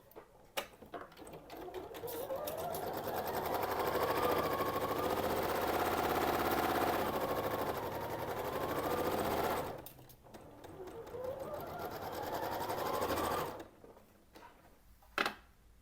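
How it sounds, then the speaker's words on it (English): A sewing machine runs in long bursts while stitching two quilt halves together, a fast steady mechanical whir that stops briefly near the middle, then resumes before ending with a click. "Sewing the whole half together."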